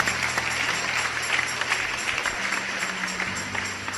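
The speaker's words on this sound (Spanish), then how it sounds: "Un aplauso fuerte al Dios que vive" A congregation at an online church service applauds steadily for several seconds, a dense wash of clapping heard somewhat distantly with a low musical hum beneath.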